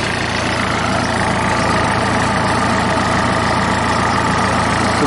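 A car engine idles with the air-conditioning switched to full cold and the compressor clutch engaged, giving a steady, loud, continuous hum with no talk over it.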